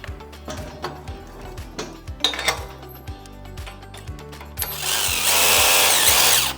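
A power drill whirs in short repeated bursts, then runs in one longer, louder spin tightening a bolt on a vehicle hitch rack, with light metallic clinks between.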